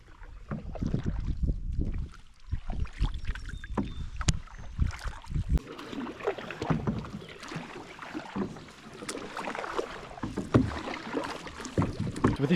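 Canoe paddling across a lake in the Boundary Waters: rhythmic paddle strokes splash and gurgle close by, with water lapping against the hull and some wind buffeting the microphone.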